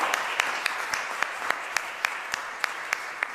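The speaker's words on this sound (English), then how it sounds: "please, a round of applause to my colleague Gunta Sloga, who pulled it all together" Audience applause for a colleague at a panel event, a steady wash of many hands with a few sharp individual claps standing out rhythmically, continuous and fairly close throughout.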